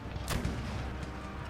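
Cannons fire canister shot in Empire Total War, one sharp blast followed by a rumbling tail over faint battle noise.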